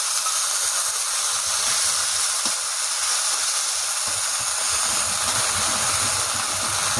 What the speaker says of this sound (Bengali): এর মধ্যে একটু হালকা পরিমাণ মতো জল দিয়ে দিচ্ছে মা।